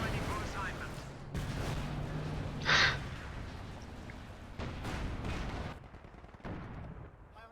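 A tank's hull-mounted machine gun lays down suppressive fire in a video game battle: dense, rough rattling gunfire and battle noise run throughout, with sharper bursts breaking through at moments.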